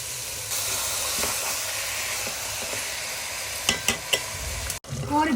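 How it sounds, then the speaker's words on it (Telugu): Chicken pieces fry with tomato in a pan for a coconut milk curry, giving a steady loud sizzle and hiss with several sharp scraping stirs and clanks of a utensil toward the end. "ఇప్పుడు మనం ఇందులో చికెన్ వేసుకోవాలి."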